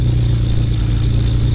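A car engine idling steadily up close, a loud, even low rumble with regular pulsing and no speech.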